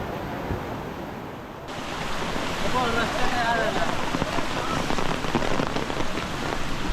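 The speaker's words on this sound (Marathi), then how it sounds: "पाऊस बघा लागतो अजून बघा" Heavy monsoon rain pours down during the first rains in the Konkan region. It is a dense, unbroken roar that grows fuller after a short, lighter start, and faint voices sit underneath it.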